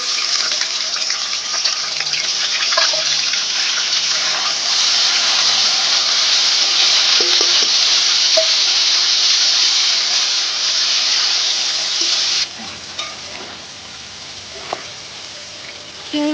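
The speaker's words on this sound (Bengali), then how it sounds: "এবার তেলটা গরম হয়ে গেছে। এবার এখানে আমি দিয়ে দিব চিংড়ি মাছগুলো।" Shrimp drop into hot oil in a wok and fry with a loud, continuous hiss and sizzle that holds steady, then suddenly drops to a quieter, sparser crackle near the end.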